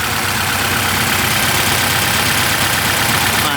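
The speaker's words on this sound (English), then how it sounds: "I'm so happy she's finally on." A Honda DC2 with a swapped K24/20 engine idles steadily right after its first start, running without a serpentine belt; the loud, even engine drone fills the whole stretch with no talk over it.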